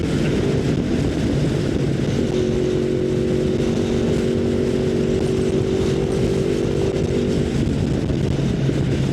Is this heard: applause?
no